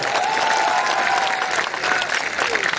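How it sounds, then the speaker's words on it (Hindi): A large crowd at an outdoor political rally for Home Minister Amit Shah bursts into sustained applause, a dense, loud roar of clapping with crowd voices and a faint tonal whistle riding over it. "जोर से एक बार ताली बजाओ सभी लोग।"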